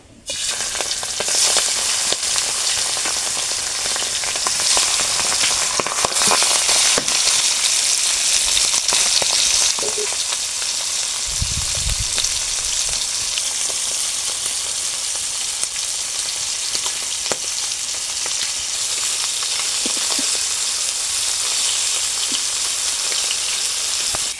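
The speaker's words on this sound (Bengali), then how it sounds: "তো ভাজার জন্য কড়াইয়ে সর্ষের তেল দিয়ে দেবো। তেলটা গরম হয়ে গেছে, এই যে মাছগুলো দিয়ে দেবো।" Loud, steady sizzling of young boal fish frying in hot mustard oil in a kadai, a bright crackling hiss that continues throughout with occasional stirring clatter.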